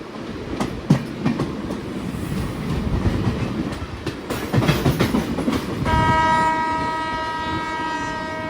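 The Seshadri Express from Tirupati to Bengaluru rumbles and clatters along the tracks near Kuppam with rhythmic clacking, then a long steady horn blares over the noise near the end.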